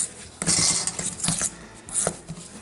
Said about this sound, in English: I always use a fork to get it going